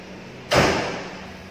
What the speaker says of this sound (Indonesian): Kita tutup kap mesinnya, dibanting saja.